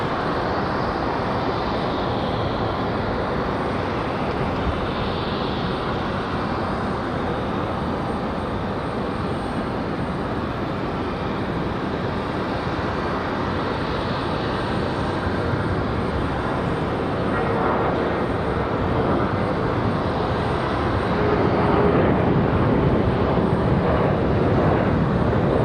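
An Endeavor Air jet departs Raleigh-Durham for Newark, New Jersey, its engines a steady broadband roar held at a constant level throughout, swelling slightly louder near the end.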